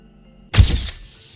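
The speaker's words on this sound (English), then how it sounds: "the shatter of breaking glass" Glass shatters suddenly as a dropped camera breaks, a sharp close crash followed by a brief fading tail of debris.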